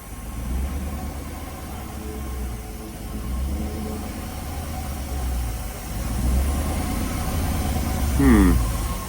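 A Jaguar with a newly installed transmission and a violent driveline vibration runs its engine, a steady mid-level drone that swells toward the end as gas is applied, with a brief tonal chirp near the close.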